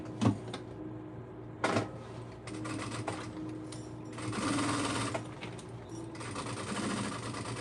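A sewing machine stitching fabric, running in steady whirring bursts with short pauses and a couple of clunks between runs, close and clear with no talking.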